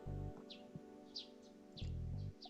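Sparrows chirp in the morning as a Chaos;Child sound effect: a handful of short, high, faint tweets spaced irregularly over a quiet background of low tones.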